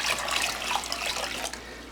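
Water is poured steadily into homemade sauerkraut, a continuous close splashing trickle with no voices.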